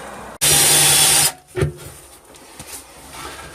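A power drill whirs loudly for about a second as it bores a small hole in a boat hull during epoxy prep, then stops, followed by faint knocks and handling sounds.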